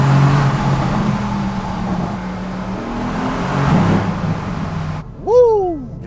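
Mercedes-AMG GLC 63S engine droning steadily through a tunnel, with a sustained low rumble and a brief rise in revs before it ends, and a couple of short whooping voices near the close.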